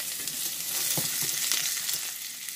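A Beyond Burger patty fries in a little butter in a pan, giving a steady bright sizzle with a few soft scraping or stirring knocks partway through.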